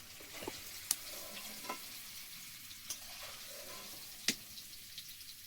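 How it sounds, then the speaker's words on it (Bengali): Paneer sizzles in hot oil during Bengali vegetarian cooking, a steady, soft frying hiss with a few sharp clinks of a utensil against the pan, and no talk. "পনিরগুলো লাল লাল করে ভেজে নিয়েছি, তুলে নিচ্ছি"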